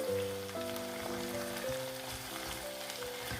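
Meat and onions fry in a pot, giving a steady, moderately quiet sizzle that runs for a few seconds under a low background hum, with no speech.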